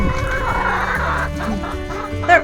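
Chickens cluck and murmur continuously nearby, with a brief sharper squawk near the end.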